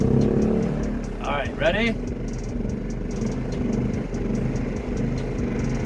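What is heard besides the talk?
gas generator starting and running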